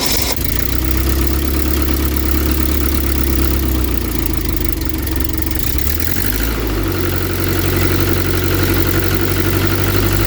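A Triumph Dolomite engine idles steadily after an ignition overhaul, a loud, continuous low rumble close by that dips and settles into a different pitch partway through.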